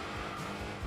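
Racing cars in Enthusia Professional Racing, a dense, steady engine roar with a faint tire-squeal edge as other cars rush past nearby beyond a hairpin barrier, brief and continuous without speech.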